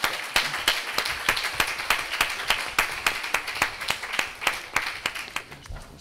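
Applause at a university faculty's academic year opening ceremony, fairly sparse and distinct claps with a loose rhythm from a smaller audience, steady for six seconds at moderate volume.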